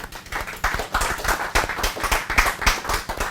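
Audience members at a live church marriage talk clap for themselves, a quick, loud run of uneven handclaps close by that continues throughout.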